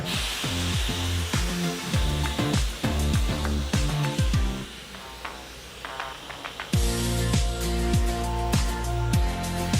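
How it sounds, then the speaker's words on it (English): A handheld hair dryer blows loudly and steadily up close while drying hair, its whooshing roar shifting as it moves and briefly dropping in strength midway before returning at full force. "I'm gonna go ahead and dry my hair"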